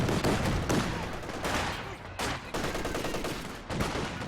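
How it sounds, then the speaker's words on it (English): MG34 machine gun in the Company of Heroes 2 strategy game, firing in sustained bursts of rapid cracks with brief gaps, loud and dense throughout, joined by other gunfire in a large engagement. "An MG34 here from Marksnus, locking down the centre."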